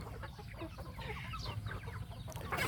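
A Burmese grey gamecock rooster gives soft, faint clucks and chortles close by over a low background hum, with no crow and no talk.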